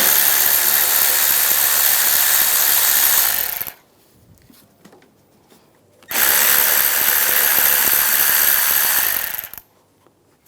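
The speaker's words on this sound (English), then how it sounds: "Using a 8mm socket, there's some screws on the side. Take those out." A power ratchet or drill with an 8mm socket spinning out side screws on a 2009-2013 BMW 328i xDrive 3.0L I6 during starter replacement, two loud sustained whirring bursts of several seconds separated by a quiet gap.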